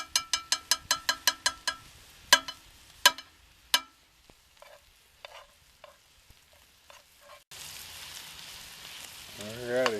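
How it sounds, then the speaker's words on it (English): A burst of rapid clacking and clinking opens, then scattered knocks, before a steady greasy sizzle of duck frying in a pot over a fire pit fills the last few seconds. "let that sizzle for a while"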